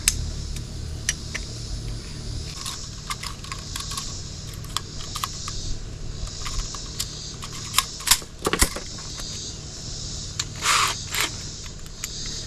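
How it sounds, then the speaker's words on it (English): Deburring drilled holes in a metal RAM mount for a switch panel: a steady low machine hum runs throughout, with scattered sharp scraping and clicking bursts, including a louder cluster of rasping strokes midway, close up with no talk. "I'll deburr these a little bit."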